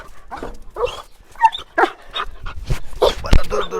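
A small puppy yips and whimpers in short, high bursts, mixed with a person talking to it nearby.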